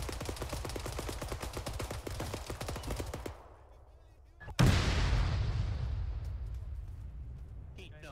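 Tank gunfire in the military game Arma 3. Rapid, loud repeating shots run for several seconds, then a pause, then a heavy boom that decays in a long rumbling tail.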